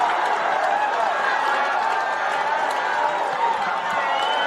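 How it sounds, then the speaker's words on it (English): A loud Papua New Guinea crowd celebrates at the Pacific Games football match, a steady roar of distant cheering filling the stadium under a commentator's voice. "And the loud PNG crowd that is here"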